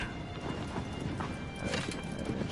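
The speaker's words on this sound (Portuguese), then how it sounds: "A gente vai precisar do Arrow. Cadê o Arrow? Vem cá, cavalo inútil" Horse hooves clip-clopping in Shadow of the Colossus, a steady rhythmic gallop drawing closer across the ground, with no talk over it.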